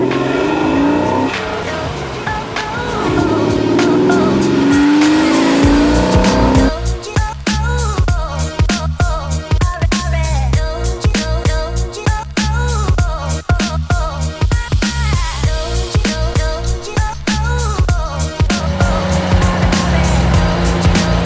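Porsche Boxster sports car engine heard from inside while driving, a steady drone that rises into sharper revving and accelerating surges with rhythmic pulsing, loud and close throughout without speech.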